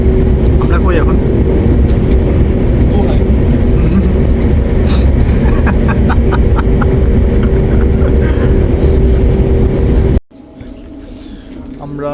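Cabin rumble of a train running at around 200 km/h on a high-speed engine near Munich, a loud, steady roar that persists for about ten seconds before cutting sharply to a much quieter interior hum.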